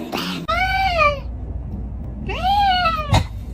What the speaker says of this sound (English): Meanest kitty of all. Why so mean?